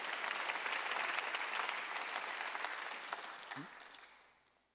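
Church congregation at a Sunday worship service claps together in a sustained burst of applause that starts full and slowly fades away, with no talking over it.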